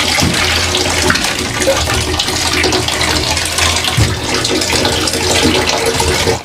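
Water pours steadily and loudly over charcoal, a continuous close splashing gush with no pauses.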